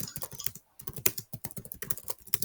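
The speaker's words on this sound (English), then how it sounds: "So let me type it quickly." Rapid typing on a computer keyboard during a maths lesson, a quick run of close, crisp key clicks with a short pause in the middle.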